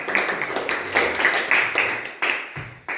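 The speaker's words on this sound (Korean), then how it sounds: "큰 박수로 맞아주시겠습니다" An audience claps to welcome a young speaker at a Korean Christian gathering on liberal democracy, the applause coming as dense, fairly close hand claps with a few louder bursts over about three seconds.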